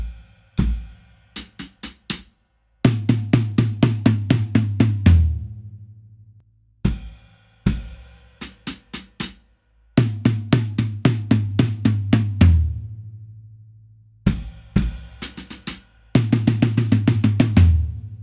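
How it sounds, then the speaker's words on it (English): A drum kit plays a song's intro slowly, working through the pattern in separate bursts: busy rolling tom strokes with bass drum thumps and hi-hat, repeated phrases broken by short pauses. "put that back with the first part of the drum intro, and nice and slowly, it should sound something like this."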